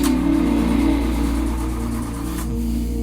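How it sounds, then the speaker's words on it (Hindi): A car engine running and revving with a steady low rumble after it stalled on a forest road, loud and close, fading slightly near the end with no talk. "भाई गाड़ी स्टार्ट होगी कि नहीं?"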